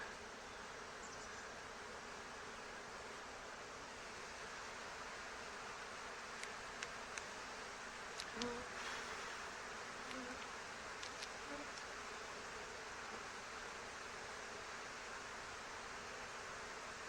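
Honey bees drone in a steady, dense buzz around an opened hive during a backyard hive inspection, with occasional faint clicks and light handling noises over the constant hum.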